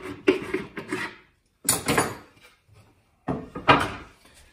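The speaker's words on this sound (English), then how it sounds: "we're going to take off our match fit clamps" Matchfit clamps being taken off a workpiece held in a woodworking mortising jig on a workbench: three separate clusters of hollow wooden clunks and knocks, close and fairly loud, with short silences between them.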